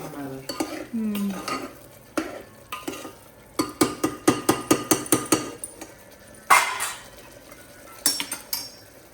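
A spoon stirs chicken and potatoes in a pressure cooker pot, producing a quick run of rhythmic metallic clinks and scrapes, close and fairly loud, then a few scattered knocks.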